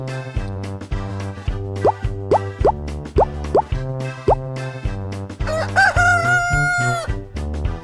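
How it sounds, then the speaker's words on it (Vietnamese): A rooster crows over a bouncy music track with plopping sounds, the crow rising clearly near the end. "đua nhau gà gáy, gà gáy thật to ó ó"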